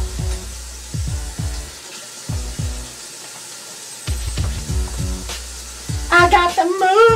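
Dishes being washed by hand clink and clatter in sharp, ringing knocks amid splashing water, arriving in uneven clusters up close, with a voice briefly joining near the end.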